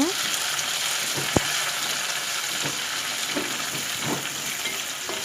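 Steady sizzling of chopped tomato and garlic sautéing in a pan, a continuous hiss with occasional clinks of a utensil stirring.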